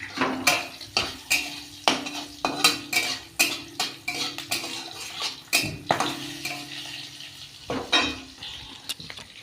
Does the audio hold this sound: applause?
no